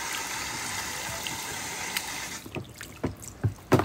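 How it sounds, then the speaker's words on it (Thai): Tap water runs steadily onto stained pyjama fabric to wet it before blood stain remover is applied, then gives way to wet splashes and dabbing drips near the end. "ทำผ้าให้เปียกก่อนนะคะลูกค้า"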